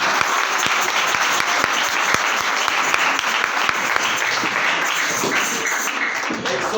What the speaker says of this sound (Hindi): उस खुदा की तारीफ के लिए जोरदार तालियां।